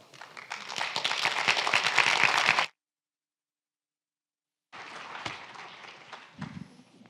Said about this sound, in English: Please, no applause after everyone